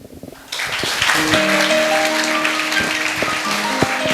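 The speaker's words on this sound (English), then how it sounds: "A big round of applause for class 5th." Audience applause for class 5 students at a school English presentation, a sudden rise into steady, crowded clapping that holds for several seconds, with music tones faintly underneath.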